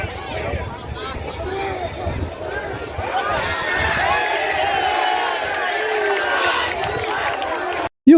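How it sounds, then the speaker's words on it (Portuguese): Football crowd at a Campeonato Piauiense match in Brazil, fans turning on the Parnaíba team: a dense, continuous roar of massed voices with rising jeers, shouting and whistles, loud throughout. "começou a vaiar o time e dar olé em cada passe de bola do Atlético Piauiense"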